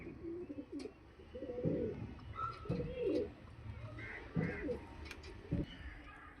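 Pigeons, a male and female pair, coo softly and repeatedly at close range in short throaty bursts, with faint chirps and quiet voices in the background.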